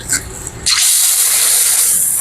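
An RV shower head bursts on and sprays water during a leak test, a steady loud hiss that starts abruptly after a brief quieter moment and carries on to the end.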